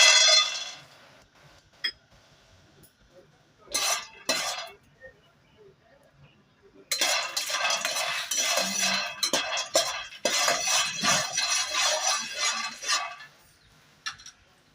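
Peanuts dry-roasting in a heated pan for a stuffed brinjal curry, heard as bursts of rattling, scraping and clinking as they are stirred and tossed, separated by quieter gaps, close and fairly soft with no talking.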